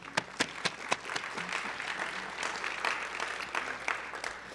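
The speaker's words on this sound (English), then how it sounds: "a round of applause for everybody." Guests applaud at a high school National Honor Society ceremony, a soft, moderately distant round of clapping with a few sharp, close single claps standing out.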